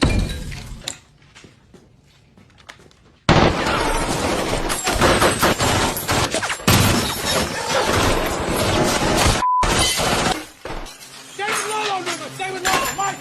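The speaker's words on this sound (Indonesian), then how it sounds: "Dan dan tim pun ditembaki oleh orang tadi" Gunfire erupts in a film scene as a team is shot at, with rapid bursts and shattering, clinking glass over a loud, dense stretch, broken by brief silences, with voices heard in places.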